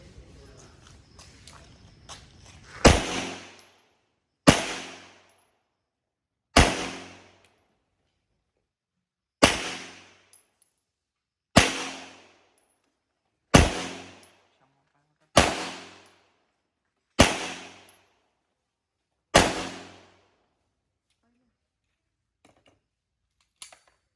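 Gunshots ring out during an outdoor photo session at Bataan, about nine loud, sharp single reports spaced a couple of seconds apart, each with a decaying echo, following some brief low talk.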